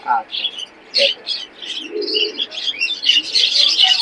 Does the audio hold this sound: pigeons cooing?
yes